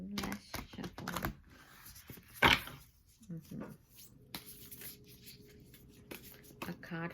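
Oracle cards being shuffled give quick riffling and slapping bursts near the start and again mid-way, heard close up under a person talking.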